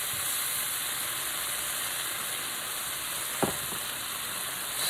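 Stir-fry sauce hits a hot pan for beef with broccolini, steady loud sizzle and hiss throughout with a brief clatter near the end, no talking.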